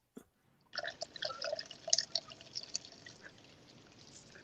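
Water poured into a bottle, a brief tap at first and then a steady gurgling, splashy stream with bubbly fill tones that grows fainter toward the end.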